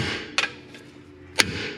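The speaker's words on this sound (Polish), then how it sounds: "Młotek udarowy, słuchajcie, robi robotę." An impact hammer knocks at a car part during brake disc work, giving two sharp, loud metallic strikes about a second apart over quiet workshop background.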